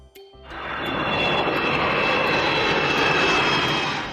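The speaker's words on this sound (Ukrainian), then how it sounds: "Вірно, це літак." A loud, steady roar of an airplane engine rises quickly and holds, with a thin whine running through it.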